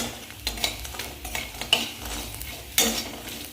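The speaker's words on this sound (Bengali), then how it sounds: "বড়ি ভাজতে গেলে অনেকটা তেল লাগে।" Sun-dried lentil dumplings (bori) frying in plenty of oil in a pan, a soft steady sizzle broken by several short scraping stirs and clinks of a spatula, close and moderately quiet with no talking.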